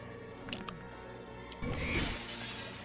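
An object smashing in Lego Harry Potter on Nintendo Switch, a crisp shattering crash with scattering, brittle debris following a few small clinks, loud and close.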